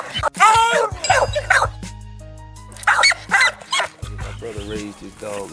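A dog lets out bursts of yelping barks and high, drawn-out whimpers up close while people talk nearby.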